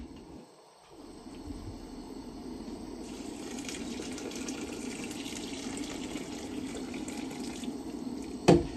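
Water running steadily from a kitchen tap to wet something during cooking, a continuous close-up hiss and splash that builds slightly, ending with a short clatter.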